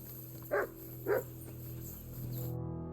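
Two short, fairly close dog barks spaced about half a second apart ring out in Kingdom Come: Deliverance II, over a steady game ambience with no talking.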